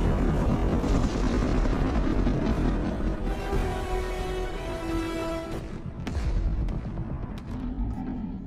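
Helicopter rotors thump and roar as the aircraft carries Kong through the air, a dense, loud drone with whining engine tones that shifts and fades toward the end.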